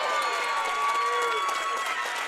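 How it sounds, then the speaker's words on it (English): Fans at a high school bowling state championship cheer and applaud, a dense, steady wash of clapping and crowd noise at moderate distance with a sustained tone running through it. "Ian Dudley wants some noise from the fans cheering on his last shot"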